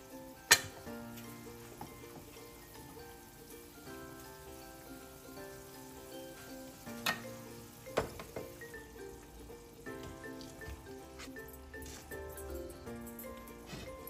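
Fish pieces frying in a pan of hot, bubbling spice paste for a Bengali fish curry, giving a steady close sizzle with soft stirring clatter and a few sharp knocks, plus faint background music throughout.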